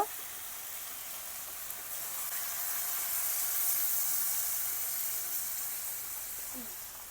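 Water poured into a hot pan of pork with bamboo shoot, lightly browned first: a broad hissing sizzle swells and then slowly fades, steady and close, with no talking.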